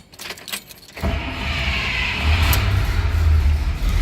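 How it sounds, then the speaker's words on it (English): A 1951 Oldsmobile 98 Holiday coupe being started in neutral: a key rattle and faint clicks at first, then the engine catches and settles into a steady, close, low rumble. "Start the car in neutral."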